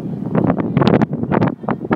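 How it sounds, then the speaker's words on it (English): Gusty wind buffets a microphone in loud, uneven bursts, rumbling and roaring close up with no voices. "Sorry, it's really windy."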